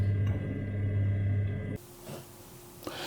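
A Honeywell 2 port motorised valve powerhead on a home heating system hums with a steady tonal drone, which stops abruptly partway through and leaves a quiet room with faint clicks.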